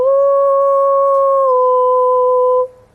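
A person's voice imitates an alpha wolf howl: one loud, close, sustained 'woo' that drops slightly in pitch halfway through, giving a two-tone call before cutting off.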